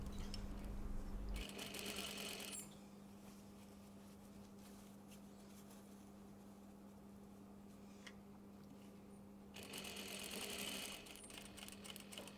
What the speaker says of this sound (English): I'm stitching the lining of the sleeve to the facing.